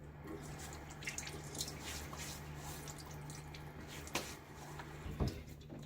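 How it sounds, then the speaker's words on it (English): Cold tap water runs and drips into a sink, with a few louder splashes near the end as water is scooped up and splashed onto a face before shaving, fairly quiet and close. "let me get my face wet so that my hairs can start softening"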